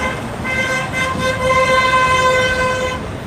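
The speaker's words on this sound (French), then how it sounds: "Énormément de klaxons" Many car horns honking together in a street protest outside a hospital in Nice, sustained overlapping tones over steady traffic rumble, loud and close.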